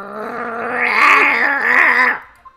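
A dog growls in the game Ace Attorney, one sustained rumbling snarl with a rising, wavering tone lasting about two seconds before cutting off.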